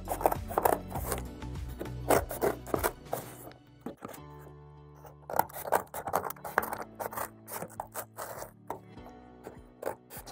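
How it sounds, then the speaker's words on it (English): A blade cutting creases into a cardboard shipping box for mugs, with repeated short scraping, slicing strokes in bursts, close and fairly quiet, and a pause partway through. "All right, so again, cutting creases."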